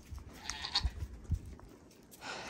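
Goats bleat on a farm, a few short, moderately loud calls spaced across a couple of seconds, with light background noise between them.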